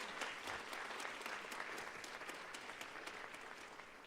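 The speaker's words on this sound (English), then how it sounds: "Can we please give her a round of applause?" Steady applause from a crowd, dense clapping sustained throughout at an even level with no talking over it.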